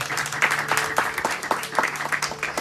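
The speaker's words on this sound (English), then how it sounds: "Give all these children a round of applause." Audience applauding children at a satsang gathering in a mandir, dense steady clapping from many hands held at an even level for the whole stretch, with a low steady hum underneath.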